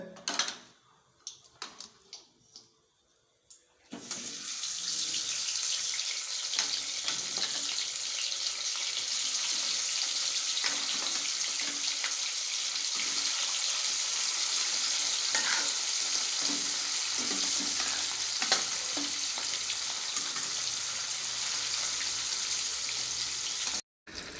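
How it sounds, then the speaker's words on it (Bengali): Mirgal fish sizzles steadily in hot oil, a dense, loud crackle and spatter that starts after a few seconds of quiet clatter and runs unbroken to the end. "তেল গরম হয়ে গেছে, এখন মাছ ভাজা হবে"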